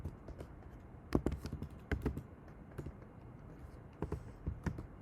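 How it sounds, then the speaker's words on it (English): Keys tapped on a computer keyboard while writing Python code in a text editor, with irregular bursts of soft, close clicks separated by short pauses. "Open your text editor. Type A equals to 2."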